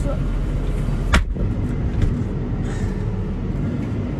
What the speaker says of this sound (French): Je vais garer le tracteur un peu plus loin